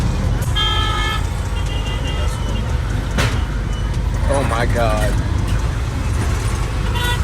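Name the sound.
street traffic with motorcycles and horns in Ghana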